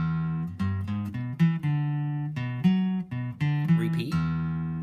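Electric guitar plays a riff in a lesson setting: a repeating pattern of clean single notes on the top string, played twice, dropping down once and coming back up, close and alone with no talking.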